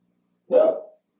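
A single loud bark from a nearby dog, short and abrupt, with silence before and after.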